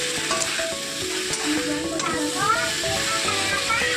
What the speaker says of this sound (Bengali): তারপরে আমি ওর মধ্যে দিয়ে দিলাম সেদ্ধ করে রাখা আলু, দিয়ে একটু ভালো করে নাড়াচাড়া করে নিলাম